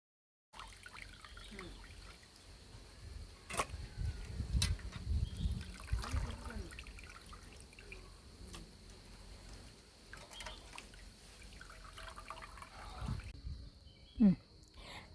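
Raw beef for beef varattiyathu is rinsed with water, giving soft splashing and trickling with a few dull clatters, quiet and close throughout.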